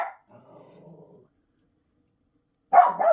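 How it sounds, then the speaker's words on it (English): A dog barks indoors: a short bark at the start, a soft growl, a pause, then a louder double bark near the end, close by with no talk over it. "What are you barking at this time, Willow?"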